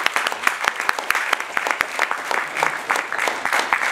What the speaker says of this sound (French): Merci d'applaudir Monstre de Film.